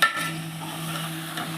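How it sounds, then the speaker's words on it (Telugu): Food being mixed while cooking in a pan, a steady low hiss with a soft scrape at the start and a light scrape near the end, close, no talking. "బాగా కలుపుకొని రొంచేపు అనేది ఉడికించుకుంటాం."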